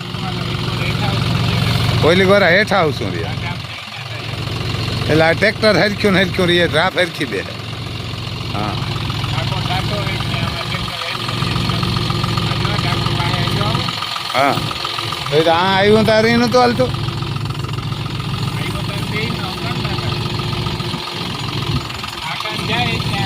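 A John Deere tractor engine idles with a low, steady chugging rumble close by, while people talk over it at intervals.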